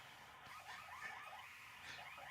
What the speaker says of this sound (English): I hear an alarm going off in the back.